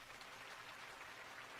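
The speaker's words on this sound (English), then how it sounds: "look how fast the military are clapping" Dense, fast crowd applause from a massed audience, including military ranks, at the Chinese Communist Party centennial celebration, a steady hiss-like wash of many hands with no pauses, fairly quiet and distant.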